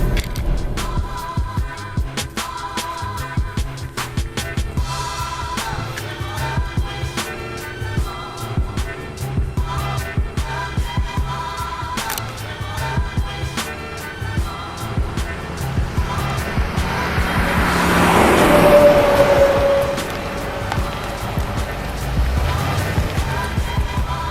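A 2014 Jeep Grand Cherokee SRT accelerating hard under launch control, heard from inside the cabin: a steady engine drone with tonal layers swells to a louder peak near the end. No one speaks.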